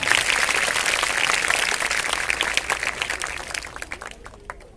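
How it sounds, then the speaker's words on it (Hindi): Enthusiastic audience applause at a school annual function at Gurjar Kanya Vidya Mandir, Devdhar, after a performance: dense, loud clapping that thins toward the end into a few scattered claps. "एक बार इस प्रस्तुति के लिए जोरदार ताली"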